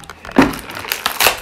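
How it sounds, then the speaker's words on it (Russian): A layer of sticky tape is torn off an advent calendar box, the gifts ripping away with it: short crinkly crackling tears in two or three close bursts, near and fairly loud, with no talk. "оторвать слой скотча,"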